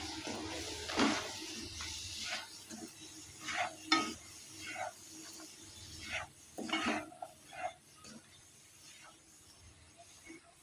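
Chana dal poornam filling is stirred in a pan with water. Soft scraping and faint sizzling strokes come in irregular bursts, quiet and close, with no voices.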